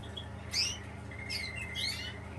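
Birds in an aviary give a few short, high chirps and tweets at moderate volume over a steady low background hum, with no talk.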